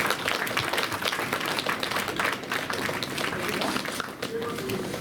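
An audience applauds at a film audio launch event, with dense, continuous clapping and a voice speaking over it throughout.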